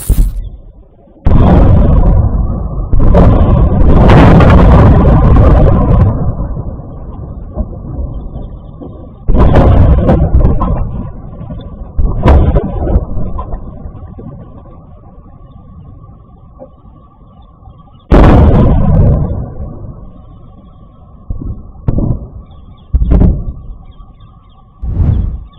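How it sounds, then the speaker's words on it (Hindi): Iranian Khaibar missiles fall and explode in Israel, heard as a series of loud, booming blasts with rushing whooshes, some long rolling rumbles and several sharp short bursts spread across the clip. "ईरान की खैबर मिसाइल के साथ साथ जो इधर उधर साथ में जो मिसाइलें दागी थी ईरान ने, वो जब गिरी हैं"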